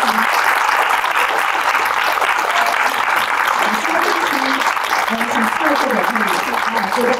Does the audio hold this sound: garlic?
no